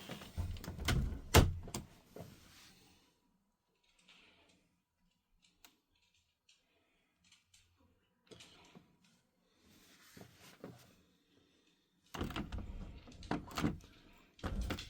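Door being closed during fearful-dog training, a few sharp knocks and clatters at the start and end with quiet gaps of faint ticks between.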